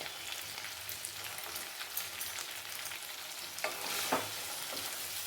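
Spicy chicken fry crackling in a pan, a dense, steady close sizzle like light rain, with a couple of brief louder stirring scrapes near the end.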